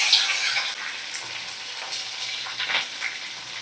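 Tomatoes and onions fry in hot oil with curry leaves, a loud, continuous sizzle with occasional stirring scrapes, close up and free of talk.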